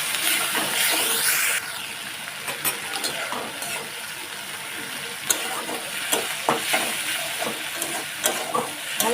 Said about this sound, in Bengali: পেঁয়াজ আর আদা রসুনটা একটু ভেজে নিয়ে টমেটোটা দিয়ে দেবো